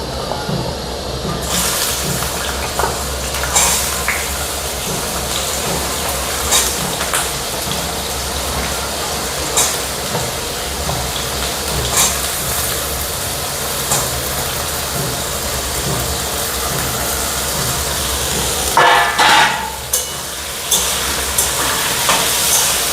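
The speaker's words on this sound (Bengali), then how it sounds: "আমাদের আলু ভাজা হয়ে গেছে, এবার তুলে নাও।" Potato pieces fry in salted oil in a pan for a Bengali prawn-and-potato curry, a steady sizzle over a low mechanical hum with occasional clinks and stirring scrapes, no talking.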